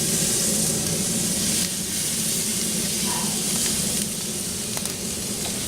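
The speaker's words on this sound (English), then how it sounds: "Try to get them nice and hot, get a little sizzle on them." Korean-style beef short ribs sizzle hot on a Pit Barrel Cooker, a dense, steady crackling hiss that stays loud and close with no talking.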